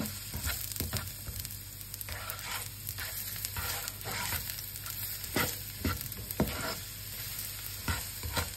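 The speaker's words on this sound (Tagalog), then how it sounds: "And we're gonna put our garlic, let it brown." Garlic browning in a pan, a continuous close sizzle of frying with frequent scraping and stirring strokes layered over a low steady hum.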